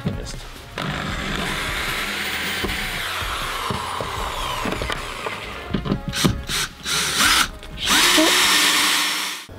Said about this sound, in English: So we're screwing this directly into the ridges.